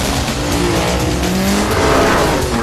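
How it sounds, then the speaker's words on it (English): Cars drift and race at high speed during a film stunt for Fast and Furious (2009), with loud continuous engine roar and screeching tires close by, sustained throughout without voices. "We have a little bit of drifting."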